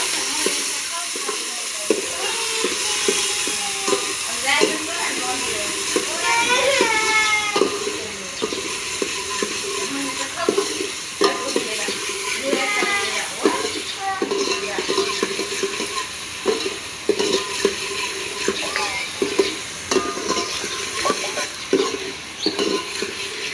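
Chillies and tomatoes stir-frying in hot oil while a green gram curry is cooked, with a steady sizzle and repeated scraping of a spoon against the pan; a voice talks over it throughout.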